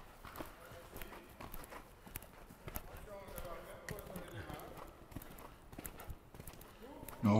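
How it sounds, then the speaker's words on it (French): Horse cantering over show-jumping ground, hooves beating in a steady rebounding rhythm throughout, fairly close, with a louder thump at the very end. "donne un galop plus rebondi pour le cheval, plus libéré."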